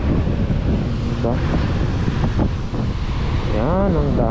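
Wind buffets the microphone by the sea in front of a beachside breakfast spot, with a continuous roar of surf and gusts masking most detail, and people talking over it.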